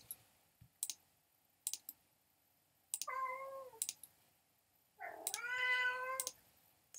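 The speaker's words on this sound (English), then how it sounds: "Sorry, my cat." A house cat meows twice, each a clear rising-falling cry, the second longer and louder, between scattered sharp mouse or keyboard clicks in a quiet room.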